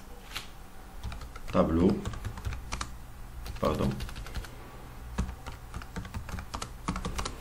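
Computer keyboard typing, a run of close irregular key clicks, with someone speaking French over parts of it.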